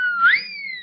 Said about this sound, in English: Yes, sir, a siren whistle built in